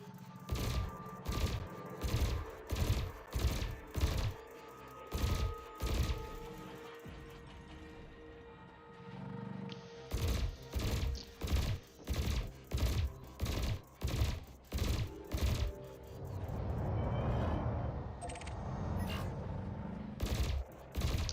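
Gimbaled ship weapons fire in bursts in the space game Elite Dangerous, with rapid rhythmic volleys of sharp mechanical shots separated by short pauses, loud and close over a low engine hum.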